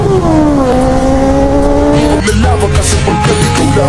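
A Kawasaki ZX25R inline-four motorcycle engine revs loud and close, its whining pitch climbing and then holding, then dropping sharply into choppy, stuttering revs near the end.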